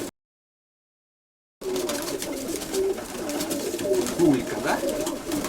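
After a short silence, a ringed pigeon hen born in 2024 coos in soft, repeated low rolls, close by, while a person speaks briefly.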